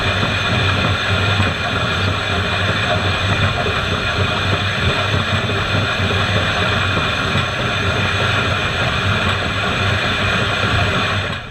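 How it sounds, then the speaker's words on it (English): Nickel Plate Road 765, an S2 class 2-8-4 Berkshire steam locomotive, running with a short train near Leipsic Junction, a loud steady rumble and roar that holds constant with no voices. "Nickel Plate Road 765 is an S2 Class 284 Berkshire steam locomotive built in September"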